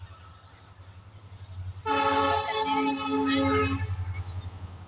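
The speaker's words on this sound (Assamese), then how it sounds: "ট্ৰেইনো আহিছে দেই এতিয়া এইটো সময়তে।" A train rumbles past nearby as its horn sounds one long, loud, steady blast of about two seconds over the low rolling noise of the cars.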